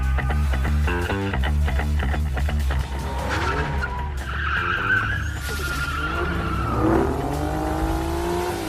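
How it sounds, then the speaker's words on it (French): Video game car braking and drifting through a chase, engine roar under long wavering tire squeals that rise and bend across the whole stretch. "Je freine rapidement et utilise mes compétences en drift pour l'éviter."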